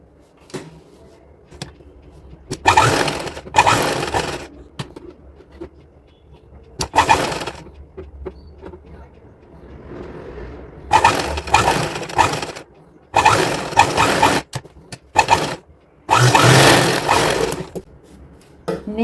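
A sewing machine stitching fabric strips onto a little girl's designer outfit, running in short bursts of rapid needle chatter separated by pauses, fairly close and clear, with no talking.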